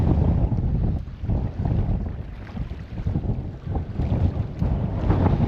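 Strong wind buffets and rumbles across the microphone in continuous gusts on the cold coast at Sønderby Klint, Denmark, with a faint wash of surf in the background.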